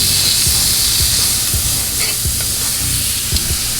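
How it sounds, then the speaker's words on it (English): Butter sizzles and hisses steadily in a small hot pot, a close, loud frying crackle with faint stirring knocks underneath and no voices. "Now I have my pot on. I'm gonna go with some butter."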